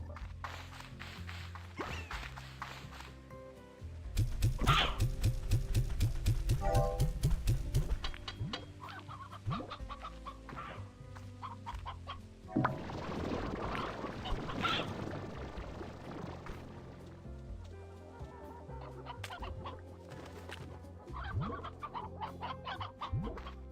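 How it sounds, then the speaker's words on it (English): Chickens clucking in the video game Slime Rancher 2, a lively flock with repeated busy clucks and cackles, loudest in bursts early and midway, with game music around them. "We'll put 15 chickens into the spot that has those two guys."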